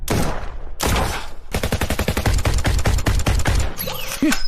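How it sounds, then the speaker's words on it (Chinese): Rapid submachine gun fire in strafing mode, staged as an audio drama effect: loud, tightly spaced bursts of shots ring out in dense volleys, a short pause, then a long continuous string of evenly spaced rounds, with a ricochet-like whine at the end. "陆九婉淡定地把步枪换成了冲锋枪，转身站定，开启扫射模式。"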